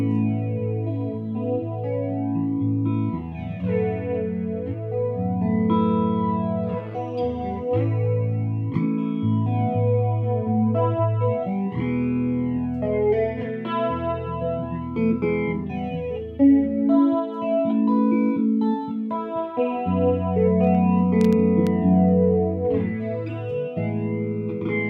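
Electric guitar chords and riffs run through an 1980s flanger pedal with all knobs at noon, giving a continuous whooshing, jet-like sweep that rises and falls, loud and sustained without speech.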